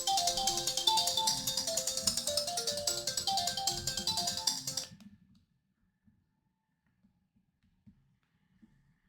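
A phone ringtone plays loudly with a repeating melodic pattern for about five seconds, then cuts off abruptly, leaving near silence with a few faint soft knocks.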